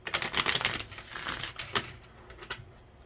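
Tarot cards are shuffled in quick rapid flutters of crisp paper slaps, a dense riffling burst followed by a few softer, sparser card snaps fading toward quiet.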